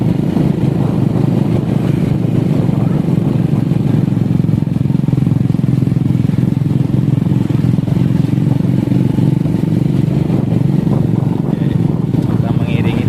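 A Honda CB mini motorcycle rides along the road toward Pangandaran while an escort follows behind, its steady engine drone and wind rush continuing for the full length without breaks.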